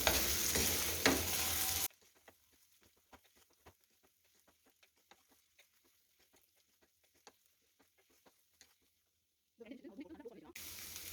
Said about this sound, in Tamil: இதில் போட்டு நல்லா வந்து இதை கலந்து விடுங்க